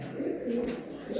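A slim pigeon coos close by in a soft, low, rolling call that repeats in short swells, with faint background noise and no speech over it.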